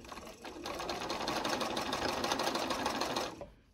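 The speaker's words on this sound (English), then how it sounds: "I'm going to keep sewing" A sewing machine stitches a quilt piece in one steady, rapid run of needle clatter for about three seconds, close and fairly quiet, then stops.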